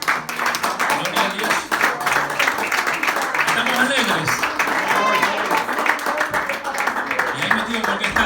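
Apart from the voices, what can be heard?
congregation applauding in church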